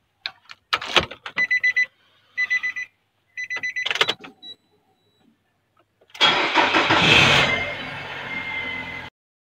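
A car engine cranks and catches after a string of short electronic chimes and beeps, then runs at a steady, loud idle for a few seconds with no talking.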